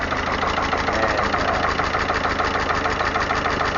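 A 1951 Willys CJ3A engine idles close up, a steady, loud, even mechanical chug with a slight knocking texture and no change in speed, heard alone without talk.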